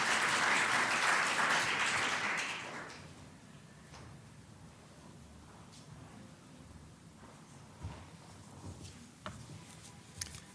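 Audience applause at a space industry partnership conference, a dense burst of clapping for the first few seconds that fades out, leaving a quiet room with scattered faint knocks and ticks.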